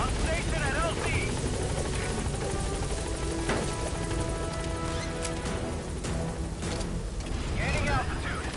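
A helicopter in the video game Metal Gear Solid 5 hovers at the landing zone, its rotor thudding and turbine roaring loud and steady throughout, while a voice speaks over radio.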